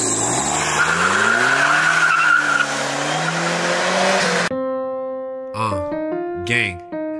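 Racing car screeching loudly with skidding tyres and a rising, revving engine for several seconds, then cutting off abruptly into a music track.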